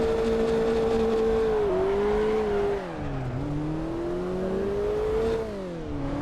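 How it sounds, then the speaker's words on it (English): A racing car engine in the video game Assetto Corsa drones steadily at close range, its pitch rising and dipping as it revs and shifts gears, with no talking over it. "Forget how much more horsepower this car has."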